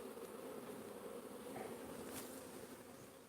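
Honey bees in an open beehive fitted with a queen excluder, giving a faint, continuous low buzz that hums steadily throughout with no talk over it.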